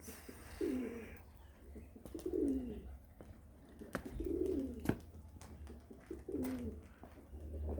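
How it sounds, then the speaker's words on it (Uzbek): Pigeons cooing nearby in four soft, rolling phrases spaced a second or two apart, with faint background noise and a few light knocks between calls. "Men tushiryapman o'g'lim kaptarlar."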